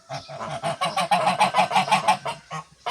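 Domestic geese honk loudly and close by in a rapid, rhythmic run of about a dozen nasal calls that tail off near the end, with no talking.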